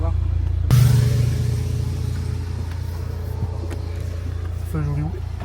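A 2022 Toyota GR Supra with the 2.0L engine starts with a sudden loud burst and then holds a steady, throbbing idle close by. A short rev rises near the end, and people talk over the engine.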